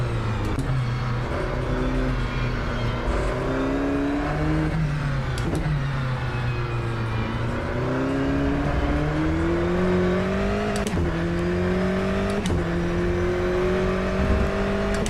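A race car engine in the iRacing sim game at low revs, with a loud continuous drone whose pitch rises and dips as it gently revs up and eases off, heard alone for about fifteen seconds.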